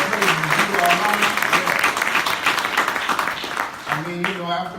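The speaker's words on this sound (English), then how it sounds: "Let us give all of our brothers in the ministry and well deserved round of applause" A mosque audience at a Saviours' Day student ministry class gives the ministry brothers a sustained round of applause, with clapping filling the whole stretch and a voice speaking over it.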